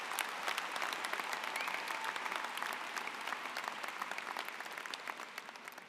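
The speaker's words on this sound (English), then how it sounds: "One more round of applause for those dual degree students" Sustained applause from a large commencement crowd at Michigan Ross for dual degree graduates, dense and even clapping with scattered sharp claps, tapering slightly toward the end.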